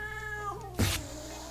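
A cat meows in the video game Jazzpunk, one drawn-out wavering meow followed by a short burst of noise, close and clear over a soft game backdrop.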